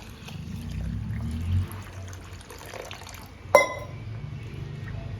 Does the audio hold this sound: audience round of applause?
no